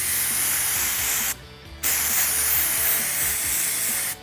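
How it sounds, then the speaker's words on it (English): Spray paint can hissing onto painted furniture, two sustained close bursts of bright spray separated by a short pause, cutting off at the very end. "I'm gonna shake up my can of spray paint here"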